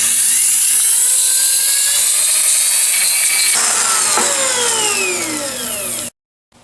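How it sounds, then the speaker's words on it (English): A Dremel rotary tool cuts off the top part of an airsoft piece, a loud, high-pitched continuous whine whose pitch shifts as it bites, ending abruptly in silence. "I'm going to take my Dremel"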